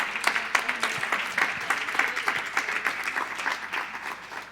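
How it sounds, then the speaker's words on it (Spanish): An audience at a professional networking talk breaks into steady applause, many hands clapping with distinct sharp claps throughout, fairly close and sustained. "Vamos a darle un fuerte aplauso,"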